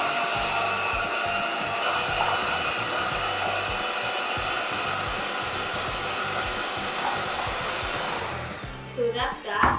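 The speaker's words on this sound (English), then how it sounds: "We'll just mix this for like a few seconds." Electric mixer whirring steadily while whipping a Milo cream mixture, a continuous loud motor drone that stops near the end with a few clatters.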